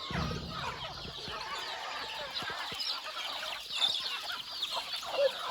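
Several native country chickens clucking and chattering together nearby, a busy continuous flock sound with occasional louder calls and faint footsteps or pecking.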